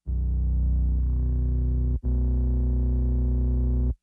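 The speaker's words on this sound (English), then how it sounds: "It's pretty much a deep sub sine wave with a touch of the square wave mixed in for that mid-range." A deep sub-bass sine synth patch with a touch of square wave for mid-range hum sounds as two sustained held notes, loud and clean, with a brief cut between them and no voices.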